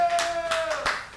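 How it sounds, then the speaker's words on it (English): An audience at a live comedy show applauds the band, bursts of hand clapping over a sustained musical tone, fairly close and steady for about a second. "Give the band a round of applause."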